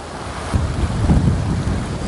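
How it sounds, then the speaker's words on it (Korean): Strong wind gusts at a seaside rock during float fishing, a loud rumbling buffet against the microphone with crashing surf beneath, surging in waves around the middle and with no talking. "이렇게 바람이 불 때는 낚싯대를 가급적이면은 수면 아래로 내릴 수 있는 장소를 골라서 이렇게 내려주면은 이제 바람이 덜 밀리죠."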